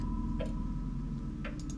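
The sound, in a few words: clock ticking in video game Darkness Within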